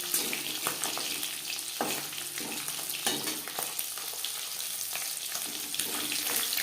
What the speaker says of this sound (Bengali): একটা সাইড ভাজা হয়ে গেলে অপর সাইডটা উল্টে দেবো